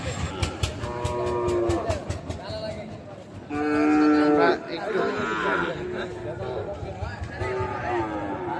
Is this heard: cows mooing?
yes